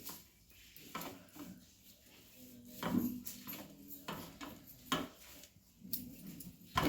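Turmeric, chutney and salt being mixed in a pan, faint intermittent scrapes and metallic knocks of a utensil against the pan, spaced irregularly over several seconds with no talking.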